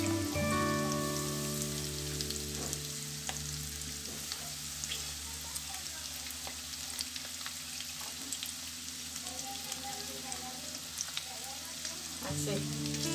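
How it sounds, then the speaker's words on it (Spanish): Breaded shrimp fry in a pan of hot oil, giving a dense, steady sizzle with crackling pops that runs loud and close throughout, with no talking. "aquí ya voy a poner el camarón. Ya lo voy a echar al sartén."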